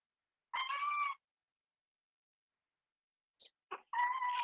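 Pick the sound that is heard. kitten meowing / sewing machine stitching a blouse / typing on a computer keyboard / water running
kitten meowing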